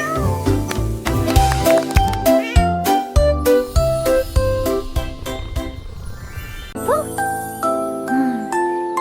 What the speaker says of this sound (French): Miaula fort le grand félin.